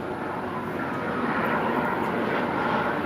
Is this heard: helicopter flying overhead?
yes